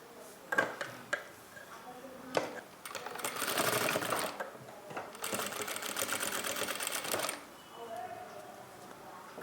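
A sewing machine stitches a folded garment sleeve, its fast mechanical whirring running in steady bursts between short pauses and clicks, fairly close and moderately loud.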